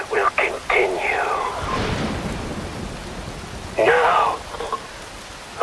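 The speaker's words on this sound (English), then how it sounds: "Wind blows, rain falls." Steady rain and gusting wind in the video game Metal Gear Rising: Revengeance form a hissing wash of noise, with a voice talking over it at the start and again near the end.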